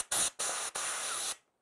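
An air nozzle pushed under a motorcycle grip blows three sharp hissing bursts, a short one, a second, then a longer sustained blast, loud and close before cutting to silence.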